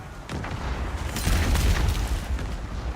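A cannon barrage in the pirate city builder Corsair Cove explodes in a loud, rolling string of overlapping booms and bursts that lasts about three seconds, with no talk.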